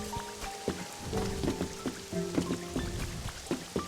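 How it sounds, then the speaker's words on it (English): Steady rain falling in the video game Pokopia, a continuous hiss with scattered soft pattering and drops, under looping game music with short tonal notes. "This rain makes it very hard to see very far."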